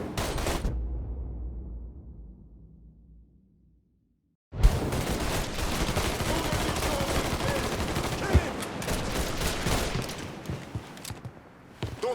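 Gunfire in the video game Mafia III: a dense, sustained burst of loud rapid shots starts abruptly after a fading rumble and near silence, continuing for several seconds.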